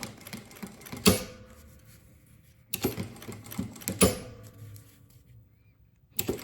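A sewing machine stitches the side seam of a bag with its lining, finishing with a backstitch: close, rattling bursts of rapid stitching separated by short pauses.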